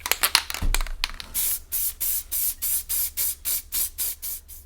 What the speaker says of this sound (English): I'll pump one side then pump the other side instead of a long continuous stream of the spray